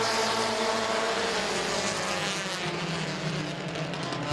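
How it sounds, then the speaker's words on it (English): A dirt-track race car at Midvale Speedway, the number 78, droning steadily in first gear, a continuous distant engine roar heard without talk. "Sounds like that 78 of Feaster is in first gear still."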